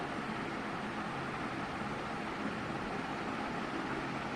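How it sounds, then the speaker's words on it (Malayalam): A Havells remote-control ceiling fan running at full speed gives a steady, even whooshing hiss of moving air, constant and fairly quiet, with no voices. "ഇപ്പോൾ നമ്മളെ ഫാൻ കറങ്ങുന്നുണ്ട്."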